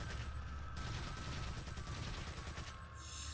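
Rapid gunfire from the video game Resident Evil 4, a steady stream of shots rattling on without pause at close range, loud and alone with no talking.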